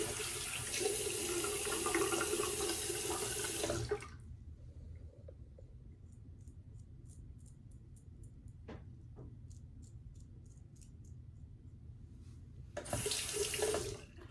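A sink tap runs loudly for about four seconds while rinsing after a shave, then goes quiet with small drips and clinks before the water gushes again near the end.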